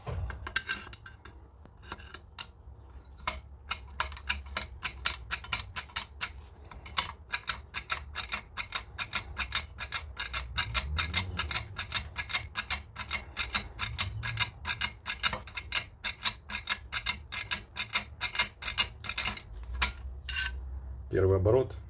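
A door lock being picked with a hook tool, its mechanism giving a long run of fast, close, sharp clicks and ticks with short uneven pauses.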